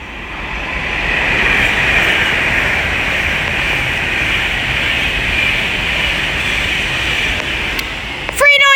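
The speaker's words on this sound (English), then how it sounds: "we're about to have an Avanti West Coast Class 390 Pendolino pass by working service from Manchester Piccadilly to London Euston" An Avanti West Coast Class 390 Pendolino electric train rushes past at Wolverton on the West Coast Main Line, a broad, steady roar of rushing air and wheel noise that holds loudly for several seconds.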